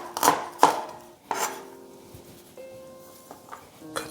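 A kitchen knife mincing shallots and garlic, with a few sharp chopping knocks near the start and one more around a second and a half, then quieter clinks and faint kitchen sounds.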